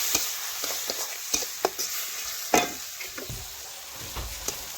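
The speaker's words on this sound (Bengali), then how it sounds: "এখন নাড়াচাড়া করে মিশিয়ে নেব" Fish pieces with salt and mustard, cumin and garlic paste are stirred in a pan of hot oil, a soft steady sizzle broken by irregular close knocks and scrapes of the spatula.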